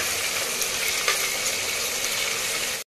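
Onions fry in a pan for chicken biryani with a loud, steady, close sizzle that continues unbroken and then cuts off abruptly at the end.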